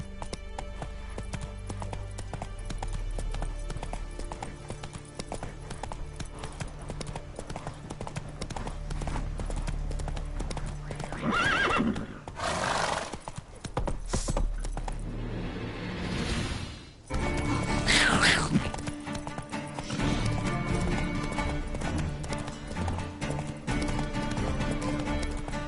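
A horse galloping in The Witcher 3, with steady rhythmic hoofbeats running through the whole stretch and a few louder, rougher bursts partway through.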